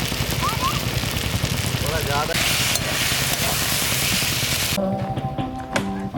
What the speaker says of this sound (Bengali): এটা খুব ভালো করে ভাজা হয়ে গেছে